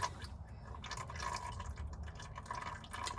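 Engine oil drains from a 1992 Crown Victoria into a pan, a steady close trickle and patter of liquid with no pause.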